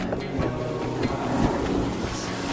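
Waves splash and churn against a rocky shore chasm, a close, rushing wash with wind buffeting the microphone throughout.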